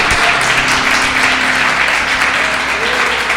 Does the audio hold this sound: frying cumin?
no